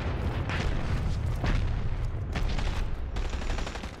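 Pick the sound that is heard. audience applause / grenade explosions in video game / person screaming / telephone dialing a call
grenade explosions in video game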